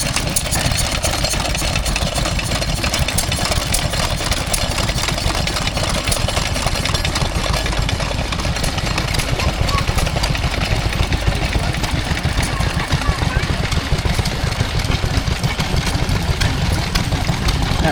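A Lister D stationary engine drives a power hacksaw at an outdoor transport festival, giving a steady, continuous chugging engine sound close by with a busy crowd and machinery noise around it, no speech over it.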